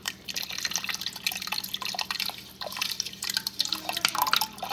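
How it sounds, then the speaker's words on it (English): Beef bone broth splashes and trickles from a container into a pot of keto brisket chili, a continuous close liquid pour with bright dripping and no talk. "I'm going to add in this beef broth, and we use beef bone broth"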